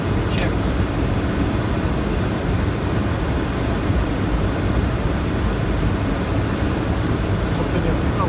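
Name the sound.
aircraft landing at Tivat in strong wind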